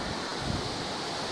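Steady wind rushes and buffets across the microphone, a constant broad roar with no voices or other sounds.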